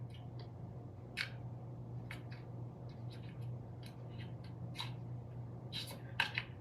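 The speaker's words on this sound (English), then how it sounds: "So I'm going to shuffle." Tarot cards are shuffled close by, a series of soft crisp riffling and tapping bursts at irregular intervals over a low steady hum, with no talking.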